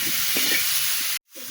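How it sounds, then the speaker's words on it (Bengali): Potatoes with cumin fry in hot oil and are stirred, a close, steady hiss with soft scraping touches that cuts off abruptly near the end. "এবার নাড়াচাড়া করে সুন্দর করে ভেজে নেব।"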